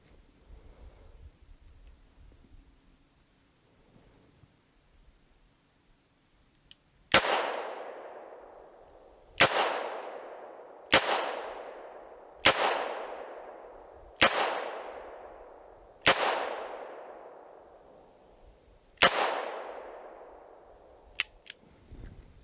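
A Smith & Wesson 686 revolver fired double action, with seven sharp, loud shots spaced a second or two apart, each ringing out in a decaying echo outdoors, with light wind noise between.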